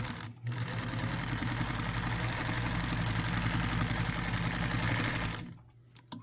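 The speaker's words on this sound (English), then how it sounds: "I am sewing with a Singer 306 from 1957." A 1957 Singer 306 sewing machine stitches a row on a quilt with an even feed foot, running in a steady, loud mechanical whir for about five seconds before slowing to a stop.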